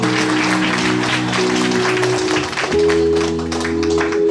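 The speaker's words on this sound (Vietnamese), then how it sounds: "một tràng pháo tay dành cho tất cả chúng ta" Applause from guests at a birthday party, loud and continuous for several seconds, played over sustained background music with tonal chords throughout.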